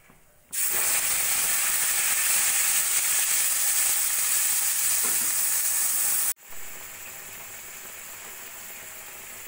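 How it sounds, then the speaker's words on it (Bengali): Onion and tomato paste hits hot oil with cinnamon and cardamom in a kadai for cauliflower korma, giving a loud, steady sizzle and hiss that starts abruptly, runs several seconds, then drops to a softer frying crackle. "ওই কড়াইতে আর একটু তেল দিয়ে দেব দারচিনি আর দুটো এলাচ ফোড়ন। দিয়ে দেব পেঁয়াজ আর টমেটোর পেস্ট।"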